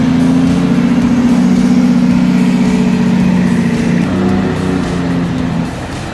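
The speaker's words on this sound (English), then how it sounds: "This classic drag saw is running powerfully, using a gasoline engine of around 4 to 8 horsepower to drive the flywheel" A classic drag saw driven by a 4 to 8 horsepower gasoline engine through a flywheel, cutting thick logs: loud, steady engine chugging with a strong low hum that eases slightly near the end.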